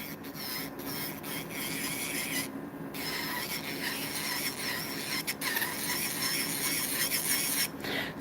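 An electric nail drill spinning at 5,000 RPM files an acrylic nail, producing a steady high-pitched grinding whine with brief pauses as the bit lifts and touches down again, close and continuous.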